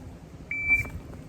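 A single steady electronic beep from a shot timer sounds for about a third of a second over low room noise during a dry firearm drill.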